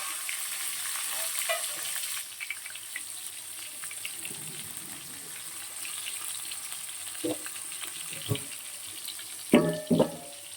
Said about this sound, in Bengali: এবার আলুটা দিয়ে দিচ্ছি।